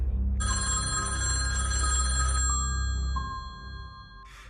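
A telephone rings with a bright electronic ringtone of stacked steady tones, looping for a few seconds before cutting off and briefly resuming, loud and close over a low hum.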